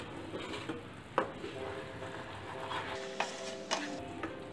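Thickening sugar syrup with ghee is stirred in a pan, a soft continuous scrape with a few sharper knocks of the spoon and faint bubbling underneath.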